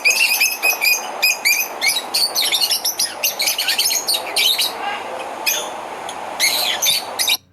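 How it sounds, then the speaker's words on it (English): Lovebird calling in a rapid, continuous stream of shrill, high chirps and squeaky tweets, close and loud with no pauses, heard alone. "Lovebird."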